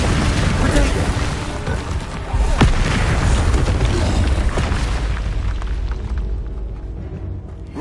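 The Confringo fire-blast spell going off in the video game Hogwarts Legacy, a dense, booming explosive roar that swells and fades over several seconds with game clutter mixed in.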